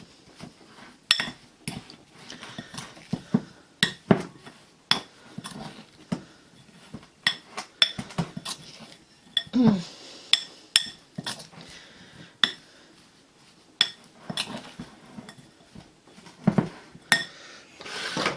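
A utensil scrapes and clinks against a bowl while Cadbury chocolate cookie mix is stirred, with irregular close knocks and clatters and rubbing sounds between them.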